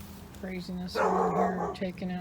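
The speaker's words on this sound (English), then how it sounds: "Sorry for the dog barking." A dog yaps and barks intermittently nearby, short sharp barks mixed with a whiny yip, heard under and between a man's speech.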